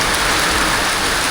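Heavy rain pours steadily and loudly onto a flooded house in Kisii village, a dense continuous hiss of drops with no pauses.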